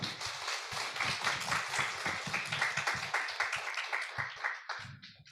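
An audience claps for students at a Christian school event, a brisk burst of many hands that fills the room, then thins into scattered claps before fading out near the end.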